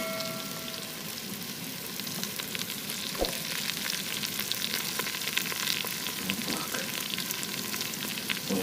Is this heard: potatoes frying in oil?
yes